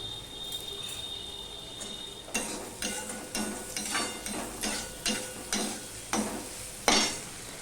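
Onions frying with salt in a pan, a steady sizzle joined after a couple of seconds by a series of regular scraping stirs, close and moderately loud, with no talking.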